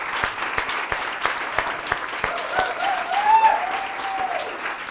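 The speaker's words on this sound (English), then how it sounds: "I want to ask for yet another big round of applause for these people" Audience applause at a product design masterclass, moderately loud and steady for about five seconds, with a faint tonal sweep rising and falling midway through.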